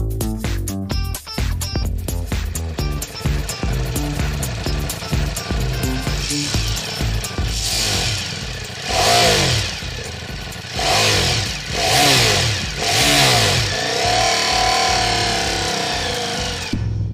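A Ducati Diavel V4 motorcycle engine revs loudly and continuously while being ridden through city streets, rising and falling in repeated throttle swells, close and without talk.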